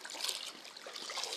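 River water rushes and trickles steadily nearby, a bright continuous hiss of flowing current with no voices.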